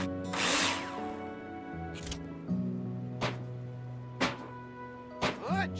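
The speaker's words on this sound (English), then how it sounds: "Now place them in the hologram and screw them in with a drill." A power drill drives screws into metal wall profiles in a construction simulator game, with several short whirring bursts spaced about a second apart over a steady background tone.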